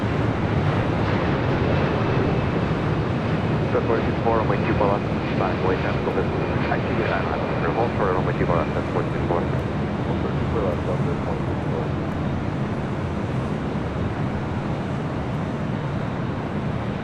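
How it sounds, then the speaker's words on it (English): United Boeing Dreamliner landing at LAX on arrival from Hong Kong, a loud, continuous broadband jet rumble with gusty wind noise and occasional voices over it. "up next, the United Dreamliner coming in from Hong Kong"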